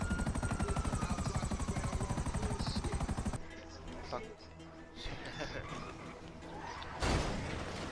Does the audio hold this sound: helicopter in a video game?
yes